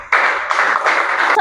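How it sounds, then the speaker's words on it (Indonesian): Students in a class clapping hands together in a short, brisk burst of quick claps, close and fairly loud, ending abruptly after about a second. "Oke, beri tepuk tangan buat teman kalian ya."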